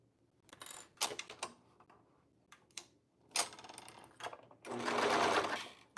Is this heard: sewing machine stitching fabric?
yes